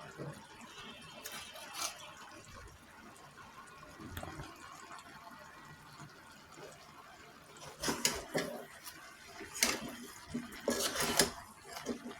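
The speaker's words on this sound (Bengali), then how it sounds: "মশলাটা ভালোভাবে নেড়ে চেড়ে" A cooking pot of beef with spice masala being stirred, soft background scraping punctuated by several louder clanks and scrapes of a utensil against the metal pot, a voice speaking faintly at times.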